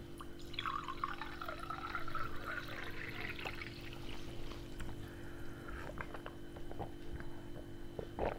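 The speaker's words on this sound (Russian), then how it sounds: "Давайте сначала я налью минеральную воду." Mineral water pours into a glass, a soft, quiet trickle whose tone rises as the glass fills, then gives way to faint drips and small clinks over a steady low hum.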